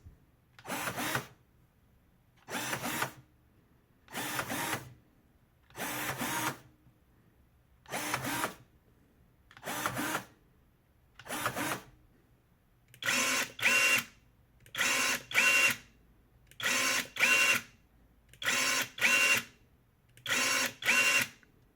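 Motor of Parkside PPAAS 20-Li A1 cordless pruning shears running in short, evenly spaced whirring bursts, single at first and then doubled, close and steady with quiet gaps between and no talk.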